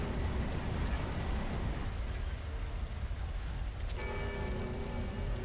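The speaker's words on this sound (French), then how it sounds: "il y a du brouillard. Et de la pluie." Dense, steady rush of rain pouring down in the video game Dark Souls 3, with a bell-like tone chiming in near the end.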